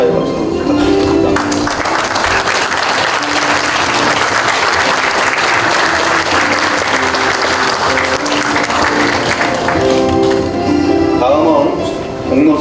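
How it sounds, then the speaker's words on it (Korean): Sustained audience applause at a university's 99th anniversary ceremony, broad steady clapping from a large crowd lasting throughout, with faint background music tones underneath. "축하의 박수로 부탁드립니다"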